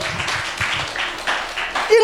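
Scattered applause from a congregation during a Sunday church service, uneven bursts of clapping in a short, lively patter, moderately close.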